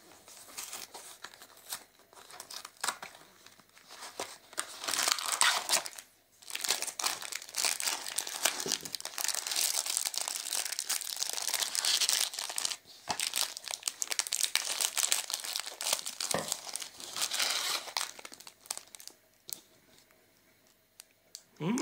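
A Dr. Oetker cocoa powder packet is opened with sustained crinkling and crackling of the wrapper, close and fairly loud in irregular bursts, dropping briefly near the middle and fading at the end, with no talk.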